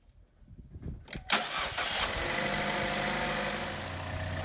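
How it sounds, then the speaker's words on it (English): A Chevrolet Trax, Cruze or Buick Encore with a leaking valve cover diaphragm and a lean-running fault cranks and catches about a second in, then settles into a steady, close idle with a rough engine hum and no talking. "start the vehicle up and see if we can hear it"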